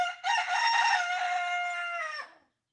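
A rooster crows in the morning, one long loud call that rises and is held, close by and alone, then cuts off.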